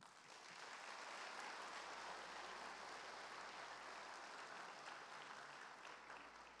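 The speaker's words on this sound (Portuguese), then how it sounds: "Aplauda ao Senhor." Congregation clapping during a church service, a steady, even wash of applause heard at a distance and quite faint, holding for several seconds without voices.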